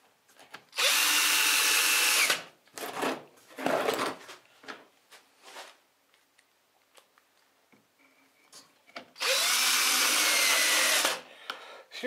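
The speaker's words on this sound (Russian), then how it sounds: "Опираемся на диагонали, на углы на эти, и фиксируем саморезами." Power driver sinking self-tapping screws into a wooden block held in a jig for cabriole furniture legs, two long steady whirring runs with short spurts and clicks between them, close up with no talking.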